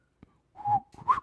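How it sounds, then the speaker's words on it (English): A person whistles a short tune, two sustained tones with a brief rise, close to the microphone and alone, ending in just over a second. "They say never whistle on mic."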